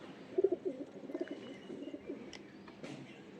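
A home-bred baby pigeon gives soft, faint coos in a short run of throaty pulses, alone with no talking.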